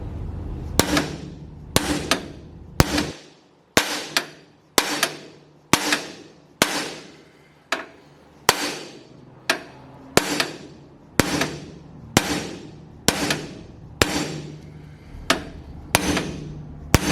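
Valve seats are driven into an aluminum cylinder head of a 2009 Tahoe 6.2 LS engine by hammer, about twenty sharp ringing metallic blows in a steady, evenly spaced rhythm, close and loud.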